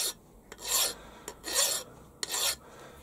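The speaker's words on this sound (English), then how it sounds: "We'll give that a quick deburr. Always got a file right behind me on the mill here." Three rasping strokes of a hand file deburring a machined metal part at a milling machine, each a bright scraping sweep with short pauses between, close and clear against a quiet background.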